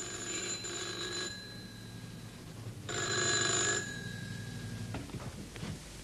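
An old-fashioned telephone bell rings in two bursts separated by a pause, bright and metallic, with a faint shuffle after the second ring and no speech.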